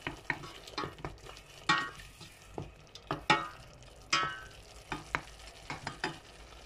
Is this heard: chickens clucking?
no